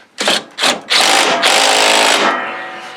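An impact wrench works a nut on the steering of a John Deere riding mower, with two short bursts and then one sustained loud, rattling hammering run that winds down, close, with no talk.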